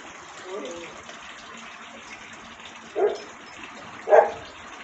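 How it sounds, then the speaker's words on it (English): A dog barks twice in the background near a backyard koi pond, two short sharp barks a second apart over a steady wash of running water. "Apologies for the dog barking."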